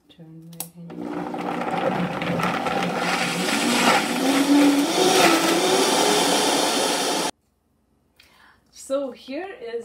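A blender whirs loudly and steadily for several seconds mixing egg-free waffle batter, its motor pitch shifting slightly, then cuts off abruptly, followed by a brief voice.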